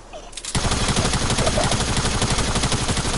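Rapid video-game gunfire starts abruptly and runs as a steady, loud automatic stream of closely spaced shots with no talking.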